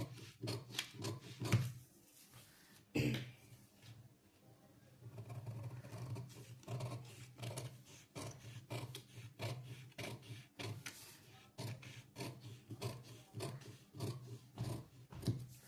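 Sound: scissors cutting cloth for a blouse katori

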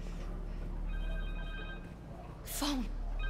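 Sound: phone ringing in video game Spider-Man 2

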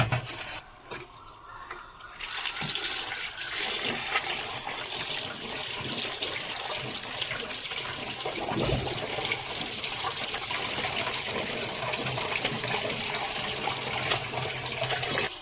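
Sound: cold water poured over drained noodles

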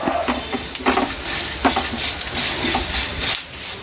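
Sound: prawn shells frying and being stirred in oil

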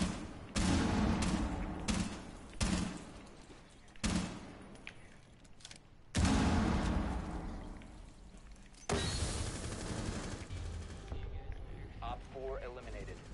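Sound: gunfire in a PS4 video game

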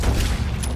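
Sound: gunshots in a duel in Red Dead Redemption 2 video game

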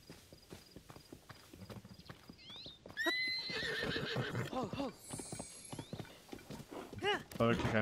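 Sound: wild horse neighing and hooves in video game Zelda Tears of the Kingdom

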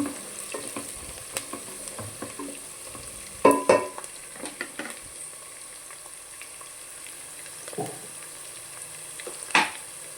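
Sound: onions frying and being stirred

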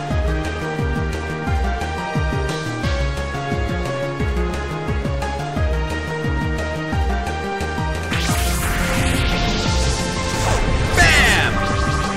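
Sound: attack hits in Pokémon Battle Revolution video game

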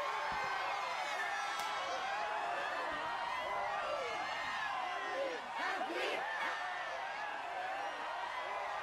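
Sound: crowd cheering in video game Dragon Quest XI

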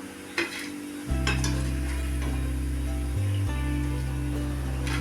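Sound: banana stem frying in a pan

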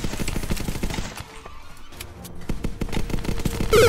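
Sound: gunfire in the video game ZombsRoyale

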